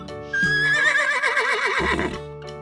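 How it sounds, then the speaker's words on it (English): A horse gives one loud, close whinny that wavers and trembles through the middle before fading, alone with no other sounds. "Horse."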